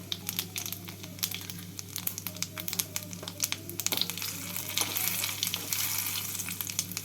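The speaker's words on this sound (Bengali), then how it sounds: "তেলটাকে গরম করে নিয়ে ফোড়নে প্রথমে দিয়ে দিচ্ছি শুকনো লঙ্কা তেজপাতা জিরে আর এলাচ আর দারচিনি" Dried chilli, bay leaf, cumin, cardamom and cinnamon sizzle steadily in hot oil for a Bengali prawn and pointed gourd curry, a close crackling fry with dense sharp pops over a low steady hum.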